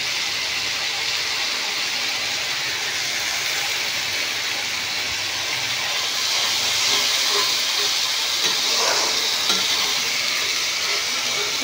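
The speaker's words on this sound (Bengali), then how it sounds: "এরপর দিলাম কুচনো টমেটো।" Chopped tomatoes hiss and steam in a pan of village-style egg and potato curry, a steady broadband sizzle with faint stirring scrapes, close and continuous with no talk.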